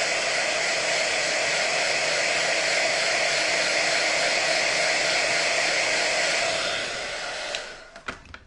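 Hair dryer blowing at a steady, loud roar for about seven seconds while drying a snow globe mould, then winding down and cutting off, followed by a few clicks and handling noises.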